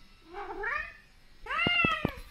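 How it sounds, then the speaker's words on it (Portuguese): A house cat meows indoors in two separate calls, the first a softer drawn-out mew, the second louder and wavering with a few faint knocks behind it, no talking. "pra gravar nessa casa tem gato miando"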